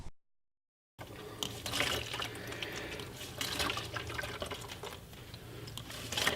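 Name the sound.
water being pumped out through a hose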